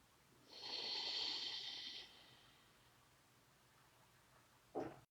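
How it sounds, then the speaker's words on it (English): One slow, audible breath drawn through the nose during a calm breathing exercise lasts about a second and a half, followed by quiet and a short sharp snort at the end, close and soft, with no talking. "inhale and exhale."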